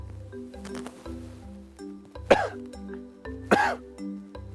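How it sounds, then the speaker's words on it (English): Two sharp, forceful coughs sound close by, spaced about a second apart, against a low rhythmic background hum and faint rustling. "I want you to cough."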